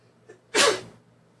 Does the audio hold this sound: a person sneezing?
yes